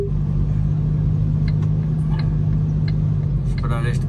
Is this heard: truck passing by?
yes